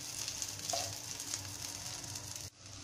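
Ginger and chili sizzling in butter in a pan, a steady close crackling fry that drops quieter near the end.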